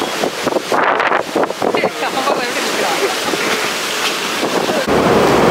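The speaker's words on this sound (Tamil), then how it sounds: "புயலோட ஆக்ரோஷம் எவ்வளோ பயங்கரமாக இருக்குது பாருங்க." Cyclone Fengal winds lash Kovalam beach, a loud, gusting roar buffeting the microphone with crashing surf mixed in, while a person talks over the turbulent noise.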